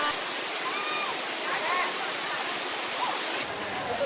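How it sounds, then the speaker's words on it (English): A waterfall roars close by in a dense, continuous rush of falling water while someone climbs up through it. "this is me going up the waterfall"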